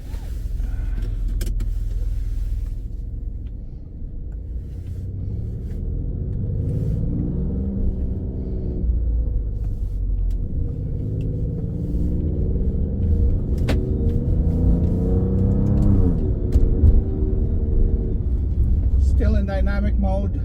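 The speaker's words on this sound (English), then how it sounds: "Let's go for a ride and listen closely to those turbos." Steady engine rumble from a moving car, with rising and falling whines as it accelerates and shifts; a voice speaks briefly over the drive.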